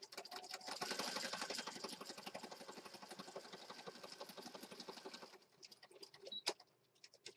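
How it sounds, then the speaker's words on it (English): A sewing machine runs a close zigzag stitch over lace in a steady, rapid mechanical rattle for about five seconds, then slows into a few scattered clicks and a sharp knock. "I'm going to stitch here with a zigzag stitch really close"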